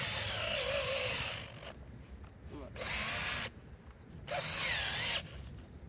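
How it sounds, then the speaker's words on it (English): A power auger bores into the ground for a coyote and fox trap, its motor whining in three loud bursts separated by short pauses, close by. "I'm going to get my auger. I'm going to find where I want to put my hole."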